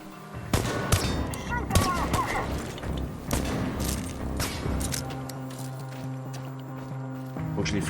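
Gunfire from an enemy stalker in Chernobylite, with sharp gunshots and short bursts that are loud early on and then sparser over a steady game background, mixed with movement sounds and someone speaking.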